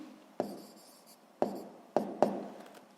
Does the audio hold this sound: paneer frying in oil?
no